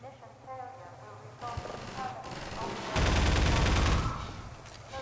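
Half-Life 2 gunfire, bursts of rapid automatic shots building to a loud, dense volley near the end, with game sounds and music-like tones underneath.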